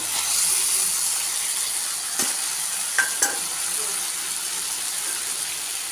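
Spices sizzling steadily in hot oil in a pan for a vegetarian Bengali banana-flower dish, with a few sharp clicks of a spatula stirring against the pan.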